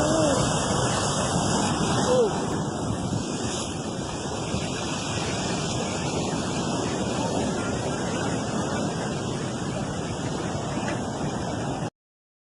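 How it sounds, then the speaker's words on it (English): Strong waves smash against coastal rocks, a constant loud roar of surf and churning water with wind noise, steady and close throughout with no breaks. "High-pressure waves smashed against coastal rocks, launching water high into the sky."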